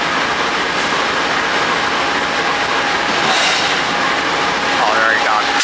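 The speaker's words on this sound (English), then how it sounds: "Acela Express arriving." An Acela Express train pulls into a station with a loud, steady rumble and clatter of wheels on rails, ending in a rising squeal as it slows; people talk beneath the noise.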